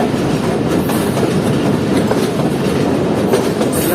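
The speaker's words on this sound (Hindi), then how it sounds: "यहाँ पर हमारी चल रही है 40 डाउन जाफर एक्सप्रेस।" Jaffer Express passenger train running on a single-line track, heard from on board or close by as a loud, unbroken rumble with rhythmic clickety-clack of wheels over rail joints and no talking.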